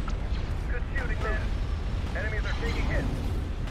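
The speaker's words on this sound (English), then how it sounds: "Bombardment." A bombardment in the game Star Wars Empire at War fills the scene with a dense, continuous low rumble of explosions while voices talk over it.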